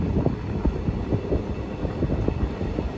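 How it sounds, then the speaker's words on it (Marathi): A Latur–Miraj special express train runs steadily on the line, heard from aboard as a dense low rumble with irregular rhythmic wheel clacks and no voices. "आपण लातूर मिरज या स्पेशल एक्सप्रेसने पंढरपूरपर्यंत प्रवास करत आहोत."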